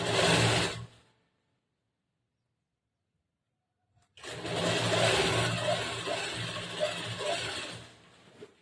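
A sewing machine stitches a folded blouse tuck in a tailoring class, a short whir, then about four seconds of silence, then a longer steady run of close mechanical humming that fades at the end.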